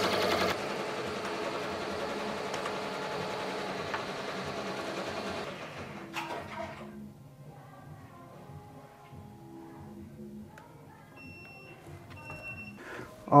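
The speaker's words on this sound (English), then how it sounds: "now needle number 13 is going to start embroidering that beautiful chain stitch right here" A multi-needle embroidery machine stitches a chain stitch onto jeans, giving a steady, close mechanical whirr and rattle that runs for about six seconds, then drops to quieter clicks and faint tones.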